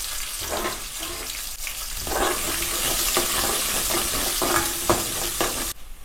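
Chopped onion hits hot oil with tempering seeds and small chilies and sizzles into a bright, continuous crackle, close up, with a few stirring clinks as the pan frying builds.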